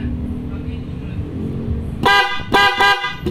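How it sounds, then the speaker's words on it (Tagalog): An Auto Style Horn car horn, thin in tone but very loud, gives a few sharp close honks after a stretch of low background rumble. "Pakinggan natin mga boss yung tunog ng Auto Style."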